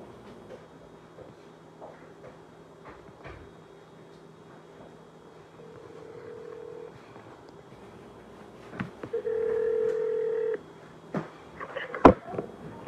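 A phone call rings out on another phone: two sustained electronic ringback tones a few seconds apart, heard over quiet background noise with scattered clicks and bumps.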